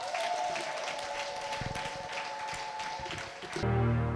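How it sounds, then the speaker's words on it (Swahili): A church congregation applauds during an anointing service for pastors, a dense wash of clapping with a held tone beneath, ending in a louder burst of music. "Kanisa, tumpe Bwana Yesu makofi."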